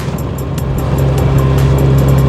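A Mazda RX7 FC rotary engine idles steadily and loudly at close range, with a constant low droning hum and a faint rhythmic ticking on top, running rich and not yet warmed up.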